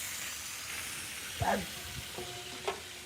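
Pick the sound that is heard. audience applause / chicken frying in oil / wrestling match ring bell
chicken frying in oil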